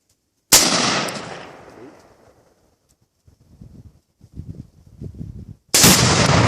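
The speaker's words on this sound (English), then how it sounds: "The blast like hit me." Two pounds of Tannerite blowing up a tree stump outdoors: a sharp, very loud blast that rings and fades over a couple of seconds. Low voices follow, then a second loud bang comes at the end.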